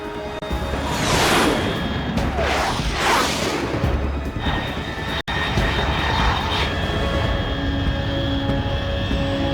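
Jet aircraft passing high overhead in Metal Gear Solid 3, a loud roaring whoosh that swells in a few waves and then settles into a steady engine drone.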